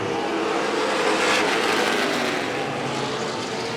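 Late model race cars roar around a dirt track during the main event, a dense, continuous engine drone that swells slightly and stays loud throughout.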